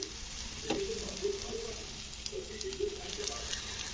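Food fries in butter in a covered pan over medium heat, giving a faint, steady sizzle with light clinks of stirring and a few soft bird-like coos in the background.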